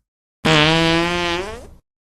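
A single long fart sound effect, loud and close, a buzzing tone that starts abruptly, holds for over a second and trails off with a wobbling fade, alone against silence.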